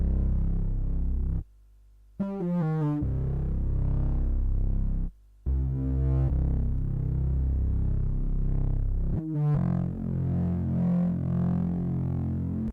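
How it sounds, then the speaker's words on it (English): Heavily distorted synth bass preset from Analog Lab, called Bottomless Pit, plays a slow, deep, growling line with two short silent breaks and pitch-gliding notes, loud and alone without any talking. "I then added this bass from Analog Lab. The bass is called the Bottomless Pit."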